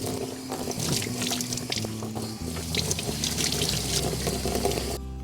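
Warm water running from a tap and splashing over helmet pads being rinsed out, a steady, fairly quiet gush with shifting splashes and a low hum underneath, no voices.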